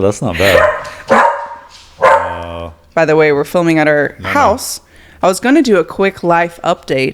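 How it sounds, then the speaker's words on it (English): Dogs bark in the background at home while a person talks steadily in the foreground, the barks short and intermittent beneath the speech. "My dogs are here. That's why you might hear them in the background."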